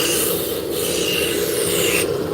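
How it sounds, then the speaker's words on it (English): A roughing gouge cuts steadily into wood spinning on a lathe, bringing down the diameter of a tapered 8-inch drop spindle shaft. It makes a close, continuous rasping scrape with no pauses. "So we're bringing the diameter down with the roughing"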